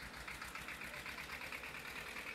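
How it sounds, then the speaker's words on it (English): Tractor engines rumbling in a rural village valley at daybreak, a faint steady mechanical chugging with a fast even pulse carrying on throughout. "the air is tinged with the sound of tractor engines rumbling in the valley"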